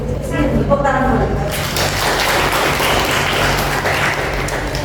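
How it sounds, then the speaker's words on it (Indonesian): A class claps during a student teaching practice session. Someone talks briefly at the start, then a sustained, even burst of clapping fills the rest. "Tepuk tangan dulu"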